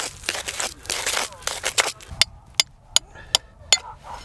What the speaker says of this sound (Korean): 빙어 낚시를 하기 위한 이렇게 얼음 구멍을 팔 수 있다는 거